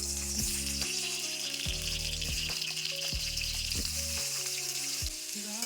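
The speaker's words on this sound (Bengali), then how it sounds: "এখানে আলুগুলো ভাজাই হয়ে আসছে" Potatoes fry in hot oil in a pan, with a steady bright sizzle running throughout. Soft clinks and scrapes of stirring come through occasionally, with no voices.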